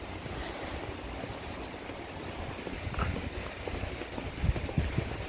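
Jeongbang Waterfall, 23 metres high, pours into the sea beside ocean surf, making a steady, full roar of rushing water with occasional heavier splashes and swells.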